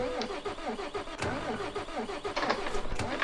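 Truck engine cranking and starting in Euro Truck Simulator 2, a loud continuous mechanical churn with a faint sharp click midway, no speech over it.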